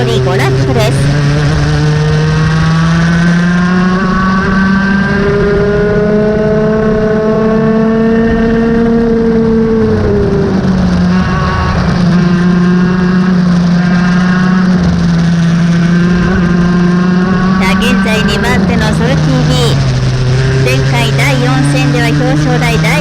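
Racing karts in a KT Expert class final at Shin Tokyo Circuit, engines droning steadily at high pitch with rising and falling revs as they lap, a commentator talking over the continuous engine noise throughout.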